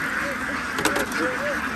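Ducks or geese honking and quacking at night on a Thai duck farm, a few scattered calls over a steady bed of background noise.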